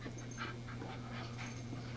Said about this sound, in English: It's a dog, Jay. It's a she dog. It's a girl dog.